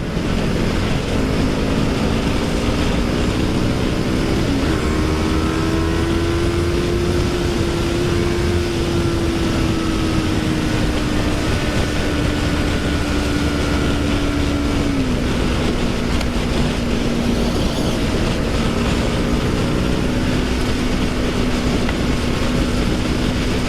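A Yamaha YZF R25 motorcycle runs at full throttle with a sustained, loud engine whine that climbs and shifts through gears, buried in heavy wind roar throughout.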